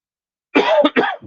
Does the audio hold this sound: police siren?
no